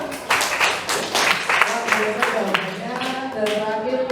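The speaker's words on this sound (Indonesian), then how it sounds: "berikan aplaus untuk kelompok 3" Classroom applause for a student group, a short burst of clapping from several people that fades after a few seconds, with a teacher speaking over it.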